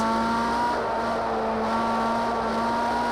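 A Ferrari on a track holds a loud, close, steady engine drone under hard acceleration. The tone stays nearly level, with no clear gear-change breaks and no talk.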